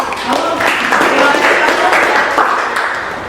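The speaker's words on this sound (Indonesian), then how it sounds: "Boleh tepuk tangan buat" A university journalism class applauds after a reviewed assignment, a few seconds of steady, fairly loud group clapping that fades slightly at the end, with some voices underneath.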